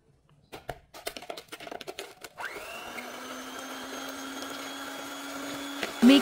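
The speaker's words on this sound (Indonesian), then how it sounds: "mixer hingga mengembang pucat berjejak." Electric hand mixer whipping dessert batter of eggs, sugar and vanilla paste, starting with a few clinks and taps, then a steady close motor whine that holds without a break, with a brief louder clatter at the very end.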